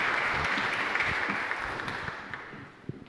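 An audience applauds at a civic cultural event, a dense steady wash of clapping that gradually fades toward the end.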